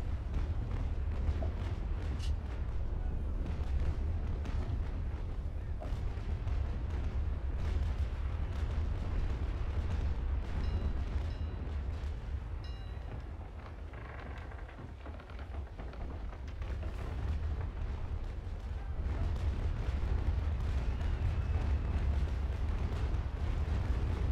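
Cannon shots in a naval port defense video game on a PvE server: a dense, continuous rumble of booming blasts and low explosions, loud and sustained, dipping briefly midway before surging again.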